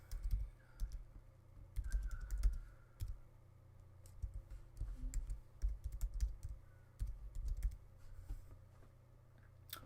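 Computer keyboard typing while an email address is entered at sign-up, a close run of irregular clicky keystrokes in quick bursts with short pauses, no voices.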